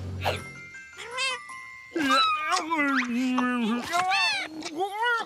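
Cartoon kittens mewing in an animated jungle scene, a string of high, bending meows and squeaky cries over a tinkling musical background, loud and close.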